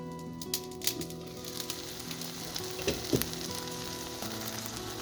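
Fettuccine with mushrooms fries in a pan, a constant close sizzle with a faint hum and occasional clinks and scrapes of stirring, no voice heard.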